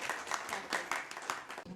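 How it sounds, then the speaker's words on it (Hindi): An audience at a rural poetry gathering claps in a brief, fairly dense burst of applause, the individual claps blurring into a steady patter close by for under two seconds. "जोरदार तालियों से स्वागत कीजिए।"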